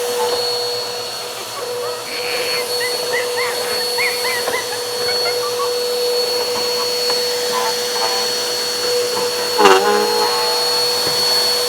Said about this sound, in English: I brought a vacuum cleaner. We're gonna clean her out.